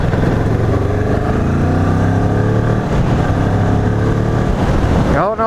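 A Kawasaki Ninja 650R on a night ride roars loudly with a steady engine drone, rising in pitch as it revs hard near the end.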